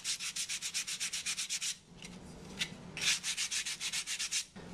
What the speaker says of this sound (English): gently sand those tabs off.